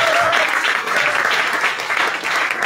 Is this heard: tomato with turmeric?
no